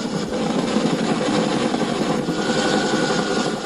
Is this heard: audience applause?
no